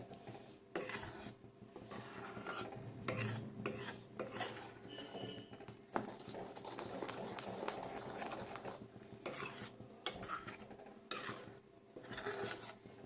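A spoon scrapes and clinks against a pan while carrot halwa with sugar is stirred, irregular metallic taps and scraping strokes at close range, fairly quiet, with no talking.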